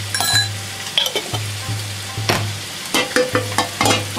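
Finely chopped onion and shiitake mushrooms fry in coconut oil in a pan, a steady close sizzle broken by repeated stirring scrapes and clinks.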